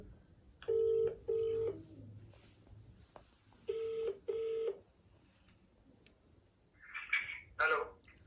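Two pairs of electronic tone beeps from a phone keypad, then warbling ringtone bursts near the end, over a quiet room hum.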